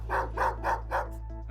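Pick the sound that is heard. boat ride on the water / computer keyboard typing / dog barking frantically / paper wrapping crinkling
dog barking frantically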